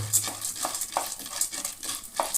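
Chana dal dry-roasting in a pan for a South Indian chutney, with a soft steady crackle and several scraping stir strokes spaced through the stretch; no voices.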